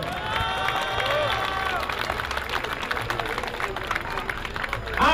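A crowd at a boxing event applauds and cheers, a dense wash of clapping and voices that carries on steadily, with people talking underneath.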